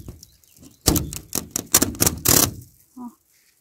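A thin polycarbonate sheet being handled close by, producing a burst of sharp crackles and snaps, followed by a brief low voice.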